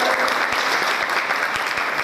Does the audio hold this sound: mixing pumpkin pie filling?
no